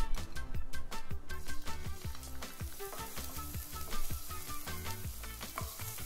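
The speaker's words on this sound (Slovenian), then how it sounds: "Zdaj bom v tole posodo dala mečken olivnega olja, pa bom noter prepražila šalotko pa česen." Shallot and garlic sauté in olive oil in a pan, with a steady close sizzle broken by repeated clinks and scrapes of stirring.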